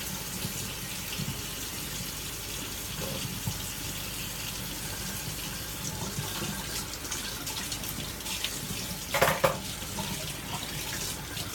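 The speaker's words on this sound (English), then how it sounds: "turn off the water" Tap water runs steadily into a kitchen sink while scissors and herbs are washed during cooking, a constant splashing hiss with a louder burst of splashing near the end and no talking.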